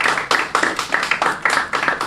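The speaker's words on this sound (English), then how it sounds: "So give every teacher in here a round of applause for taking time." Clapping for teachers and students at a primary school diabetes quiz event, a close, steady, rhythmic patter of several hands beating together, fairly loud, with no talking over it.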